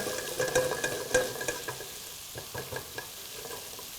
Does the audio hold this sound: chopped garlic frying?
yes